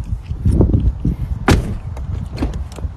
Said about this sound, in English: Hey, don't slam my door.